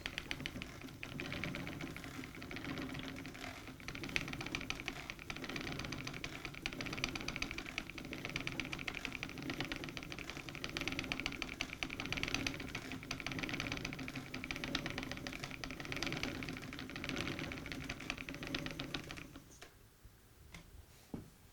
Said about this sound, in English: The treadle keeps the wheel going.